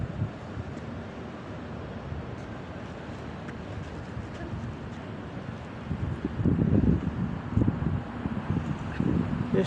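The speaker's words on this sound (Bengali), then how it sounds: "বেশ ঠান্ডা বাতাস" Cold wind blowing outdoors on a London street near Paddington station in the early morning: a constant rushing buffet across the microphone, swelling louder in gusts toward the end, with faint background city rumble.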